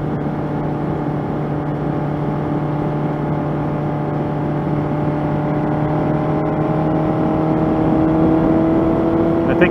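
Steady engine drone from a 1985 Honda CB700SC Nighthawk motorcycle being ridden, a continuous hum at constant speed with slight pitch rise toward the end.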